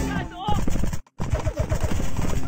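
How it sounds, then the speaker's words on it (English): Rapid paintball marker shots fire in Greg Hastings Paintball, a fast, loud burst of popping hits with a short silent gap midway, mixed under game sounds and some talking. "I heard the shots whiz"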